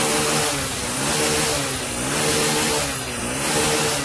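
A Hero Splendor BS6 motorcycle engine revs steadily up close, its loud, even drone rising and falling gently in a few smooth swells with no missing or jerking.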